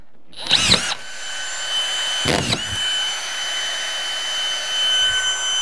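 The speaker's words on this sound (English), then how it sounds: "So much easier with a cordless gun." A cordless drill gun drives screws into wall framing during a repair of a crooked, out-of-square wall, with two short, loud bursts of whirring, the second about a second and a half after the first, then quiet room tone.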